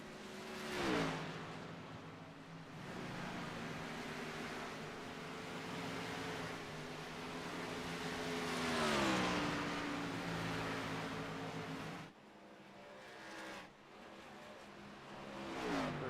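Race cars roar around Darlington in an iRacing NASCAR Xfinity video game race, engines droning loud and steady, with pitch sweeps as cars pass and shift, swelling and fading over about sixteen seconds.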